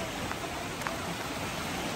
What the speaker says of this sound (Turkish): Qar kimi dolu yağır.